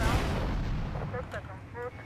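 Sustained rapid gunfire from a Gatling gun in GTA Vice City, a dense continuous roar of shots with a few voice fragments near the end.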